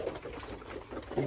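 A domestic pigeon brooding its eggs in a loft gives soft, low cooing, faint and close, with a slightly louder coo at the end.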